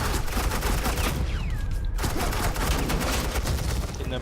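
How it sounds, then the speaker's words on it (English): Suppressing gunfire in a Telltale Batman game scene, dense continuous rattling bursts of automatic fire filling the whole stretch, loud and unbroken, with a brief whooshing streak partway through. "I said suppressing fire!"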